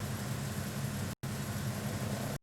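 Engine room machinery in Metal Gear Solid 2 gives off a steady, low, droning mechanical hum, continuous and even, broken only by two brief dropouts to silence.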